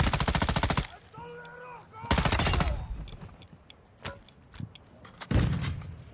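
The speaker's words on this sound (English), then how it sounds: "Yeah, that is you shooting." Rapid automatic gunfire in Call of Duty DMZ, two long loud bursts of machine-gun fire followed by scattered single shots and a final heavy burst, with game effects and voices talking in between.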